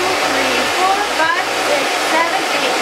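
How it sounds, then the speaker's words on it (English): A hair dryer blows steadily and loudly up close, drying curly hair with a constant whooshing roar and slight shifts in tone as it moves. "So I'm going to go ahead and dry my whole hair"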